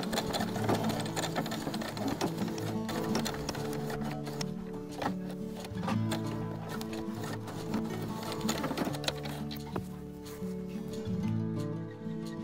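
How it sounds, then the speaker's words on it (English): A sewing machine runs a zigzag applique stitch on fabric pieces for a stuffed badger toy, a fast steady mechanical chatter heard close and continuous throughout with small changes in speed. "Stitch Freddie's face pieces down using an applique stitch or a zigzag stitch"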